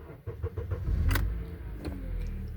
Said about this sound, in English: now it says to start the engine